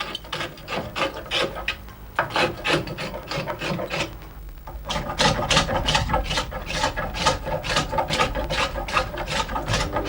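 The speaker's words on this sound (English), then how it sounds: "It's then thinned down with a series of spoke shaves to about half its original diameter." Spokeshaves thin a steam-bent wooden chair bow in a furniture maker's workshop, a close, repeated rasping of blade on wood in brisk strokes, pausing briefly before the steady rhythm resumes.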